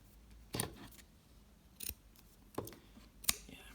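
Scissors snipping crochet yarn ends on a cat amigurumi, four sharp separate cuts spaced about a second apart, close and quiet.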